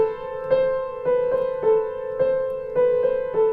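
Piano right-hand melody from Carol of the Bells, a clear sequence of single sustained notes struck one after another at a moderate, even pace, solo and close.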